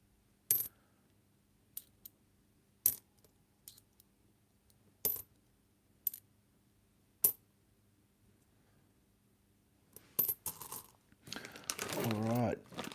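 Australian 1c and 2c coins being sorted, sharp metallic clinks as single coins drop one at a time at uneven intervals, followed by a busier rustle and jingle as a handful is shuffled.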